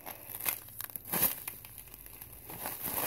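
Crinkling and crumpling of a plastic wrapper, with close, irregular bursts of crackly rustling that continue throughout.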